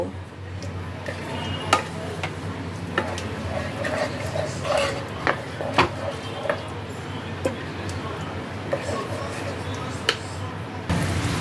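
Spice masala for dhaba-style paneer bhurji being stirred and fried in a pan, with a steady low sizzle broken by sharp intermittent clinks of a spatula against the pan throughout.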